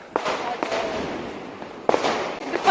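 Diwali firecrackers going off nearby, several sharp cracks and pops scattered over a few seconds amid crackling background noise.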